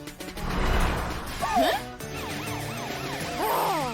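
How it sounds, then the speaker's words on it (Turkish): Rising and falling siren wails from a cartoon rescue vehicle chasing a robot thief sweep up and down repeatedly, mixed with music and a bright swooping effect near the end. "Matilda'nın sirenleri diğer arabaların yol açmasını sağlıyor."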